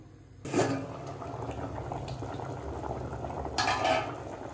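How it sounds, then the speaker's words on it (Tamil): A pot of dry fish curry with potatoes and jackfruit seeds simmers on the stove, a soft continuous bubbling close by, broken by two brief clinks and stirring scrapes of a utensil. "ஒரு கொதி வந்துச்சு"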